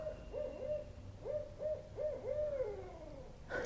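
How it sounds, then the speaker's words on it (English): A rural neighborhood owl calls in a series of soft, wavering hoots, steady and somewhat distant, with no talking over them. "I don't know if you could hear our neighborhood owl in the background."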